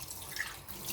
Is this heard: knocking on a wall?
no